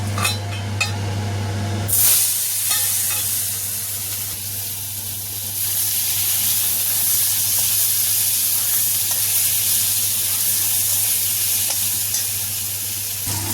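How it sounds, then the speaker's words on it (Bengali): Cut potatoes fry in oil in a wok with a loud, steady sizzle and hiss that surges as they drop in after a couple of seconds, then continues strongly with faint stirring clinks, close and uninterrupted. "আলুটাকে ভেজে নেব"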